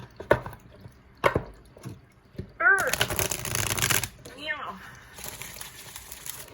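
Oversized tarot cards, as big as a hand, are shuffled in loud, papery riffling bursts, with crisp taps and flicks between them and a voice speaking briefly.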